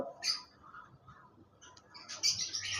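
Lutino opaline lovebirds, a pair in a cage, give a few short high chirps with quiet gaps between them, faint and close, with no voices.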